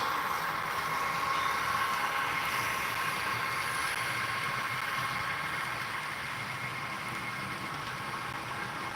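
An HO scale model train runs into a staging yard on a Union Pacific Evanston Subdivision layout, making a steady, fairly quiet motor whir and hum mixed with faint rail noise, with no talking.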